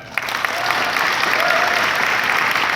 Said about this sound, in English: let's give a round of applause for Jeff